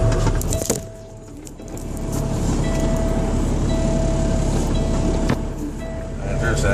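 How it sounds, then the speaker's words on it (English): A semi truck drives through an underground mine tunnel carved into a mountain, its engine a steady loud rumble echoing off the walls, with a dip near the start and a faint whine running through. "I'm in a semi."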